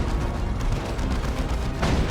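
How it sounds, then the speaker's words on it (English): Artillery fire from two D-cannons in the real-time strategy game Dawn of War 2 during a 3v3 match, a dense, continuous barrage of booming shots and explosions with a sharper blast near the end, loud with no talking. "2 D cannons from Nurland."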